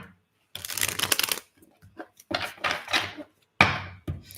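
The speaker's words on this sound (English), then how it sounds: "One more shuffle for you, Scorpio." Tarot cards being shuffled in several close, crisp riffling bursts, with short pauses between them and a couple of light taps of the deck.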